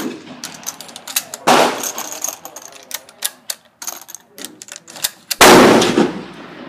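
Mosin M44 rifle shots fired at 25 yards, sharp loud reports with long ringing tails, clicks and clatter of the bolt and rounds being handled between them.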